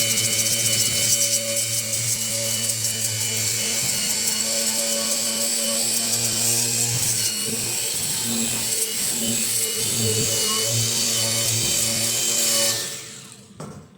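An IRTools 20V cordless polisher/sander with a Scotch-Brite pad works steadily on weld marks, a loud continuous grinding whir with scraping texture running alone for about twelve seconds before cutting off near the end.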